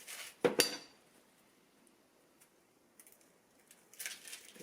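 A knife halves an onion on a board with two sharp, close knocks in quick succession, followed by quiet and a few faint clicks and rustles.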